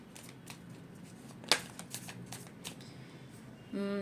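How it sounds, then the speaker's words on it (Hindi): Tarot cards are shuffled close by with soft, rapid riffling and light slaps of falling cards, quiet overall, ending in a brief tonal sound. "इतने सारे कार्ड गिर चुके हैं लेकिन लूँगी नहीं"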